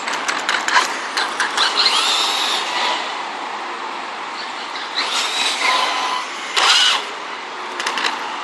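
A nitro RC car, a Sabertooth, runs on the street in front of a shop, its small engine buzzing and revving in uneven bursts, rising and fading as it passes near and away.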